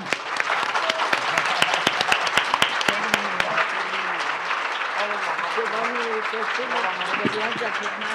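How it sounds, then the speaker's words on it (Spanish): Applause breaks out in an audience at a book talk with Elena Poniatowska and Carmen Boullosa, beginning with sharp separate claps that thicken into steady clapping while a voice talks over it. "les pido para Elena y para Claudia un aplauso"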